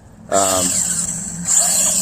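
A Mugen MBX7 6S RC buggy's motor whines at a high, steady pitch, with a brief low rumbling burst near the start.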